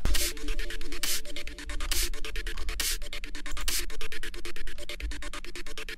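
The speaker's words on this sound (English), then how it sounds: "it sounds like this weird white noise" Dense, muffled low-pass filtered synth white noise with a steady low rumble and periodic bright bursts, continuous and fairly loud throughout, in a tech house production.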